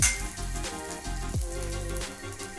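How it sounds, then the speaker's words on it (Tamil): Curry leaves sautéing in a pan for groundnut chutney, a steady crackling sizzle with scattered pops running throughout, moderately loud and close with no talking. "அதை கொஞ்சம் போட்டுட்டு நல்லா வதக்கிக்கோங்க"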